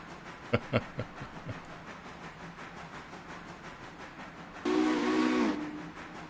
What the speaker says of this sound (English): You can quill the whistle with your mouse.